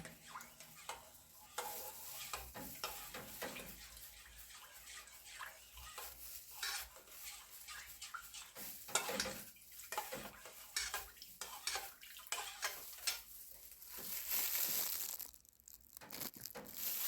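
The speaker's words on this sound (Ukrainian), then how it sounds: "І так ложкою чуть-чуть вимішаю так, щоб дріжджі розійшлися по молоці." A spoon scrapes and swirls steadily in a bowl of milk, stirring in yeast, soft rhythmic strokes up close with no voices.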